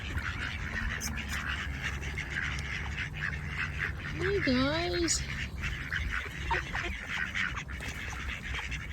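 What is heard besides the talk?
ducks quacking at a duck pond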